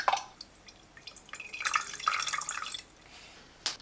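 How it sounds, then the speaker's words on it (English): Water pouring through the lid into a Silvercrest SWGD A2 digital glass kettle, a splashing, trickling fill that swells in the middle and then tapers off, ending with a short clunk. "Let's fill up with water at the top of the lid."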